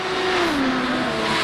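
Race cars speed past in the pit lane at the Long Beach street circuit, a loud close engine drone with a falling pitch as a car goes by, continuous and alone.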